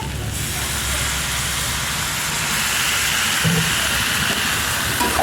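Water splashed onto arum greens frying in a pan for a chicken curry releases a loud, steady broadband hiss of steam that runs unbroken and close throughout, with no talking.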